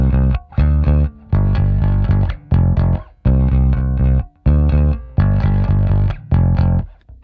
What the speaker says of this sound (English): that's just my compressor on, and that just feels so much to me like a real Ampeg amp